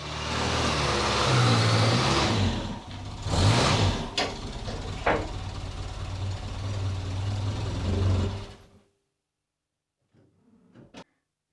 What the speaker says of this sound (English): I'm gonna take this for a quick test drive